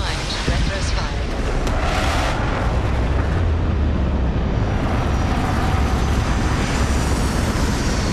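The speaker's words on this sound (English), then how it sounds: "Landing struts primed. Retros firing." Spaceship retro rockets fire during a landing in Starfield, a loud, steady, broadband roar of thrust that holds unbroken for the whole stretch.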